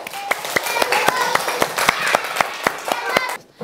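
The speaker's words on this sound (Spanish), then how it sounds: "Ahora nos vamos a dar un aplauso bien fuerte." Schoolchildren in a rural classroom in Ayacucho, Peru clap loudly and close by, their sharp, individual claps landing in a quick, uneven rhythm before cutting off near the end, with children's voices mixed in.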